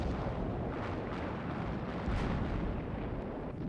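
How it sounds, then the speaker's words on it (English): Naval guns of the cruiser USS Olympia opening fire, a dense, continuous roar of heavy booming blasts that runs without letup across the whole stretch, with no voices. "he gave the order for the Olympia's guns to open fire"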